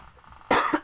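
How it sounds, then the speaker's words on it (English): A single sharp cough bursts out close up after a quiet moment, followed by the start of another. "Still getting over the cough."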